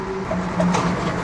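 Steady road rumble and rushing traffic noise with a faint whine, fairly loud and continuous, as heard through an open window of a Mercedes GLE.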